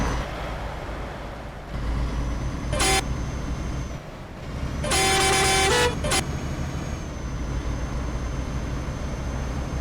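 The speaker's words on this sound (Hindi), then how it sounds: "इसको हॉर्न दे देते अच्छा वाला" Truck horn on an Ashok Leyland truck in Euro Truck Simulator 2 blares in a short blast then a longer one with a quick extra toot, over a constant engine rumble and hiss, close and loud without speech.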